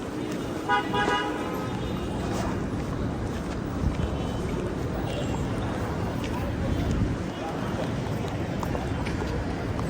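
Car horns honk over dense, stuck traffic in Makkah, with a steady roar of engines and street noise and brief toots rising out of the constant din.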